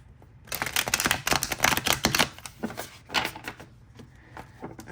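Tarot cards being shuffled by hand, a quick run of crisp riffling flutters and soft slaps, close and fairly loud, with short pauses between bursts.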